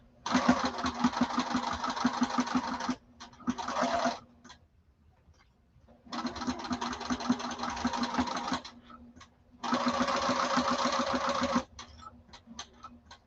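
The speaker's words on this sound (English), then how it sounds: "I'm going to start stitching, and I'm basting at 1/8 of an inch." A sewing machine bastes fabric for a duffle bag in three bursts of rapid, even stitching, each run a few seconds long with quiet pauses between and faint clicks near the end.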